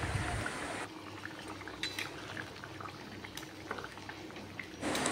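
Egg curry gravy bubbling in a pot after water is added to the fried spices: a continuous close hiss and simmering bubble with faint utensil clinks, steady throughout.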